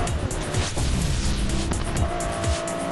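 Cars racing in the Blur video game, engines roaring continuously with tire squeals and skidding, loud and dense throughout the short burst of gameplay.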